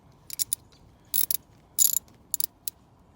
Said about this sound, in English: If I can get my wrench to act right.